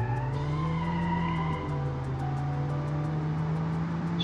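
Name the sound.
car handbrake skid, tire squeal in BeamNG.Drive video game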